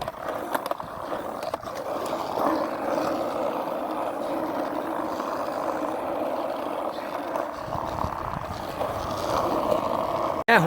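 A skateboard rolls steadily over pavement while the rider turns by leaning, a continuous close grinding rumble of wheels with a few clacks near the start and a sharp knock at the end.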